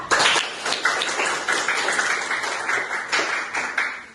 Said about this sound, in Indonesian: Kasih aplaus untuk Naila.